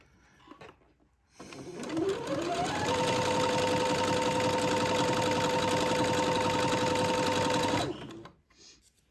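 A sewing machine zigzag-stitching lace onto entredeux, starting up with a rising whine, then running at a steady rapid chatter for about six seconds before stopping, close and clear with near silence around it.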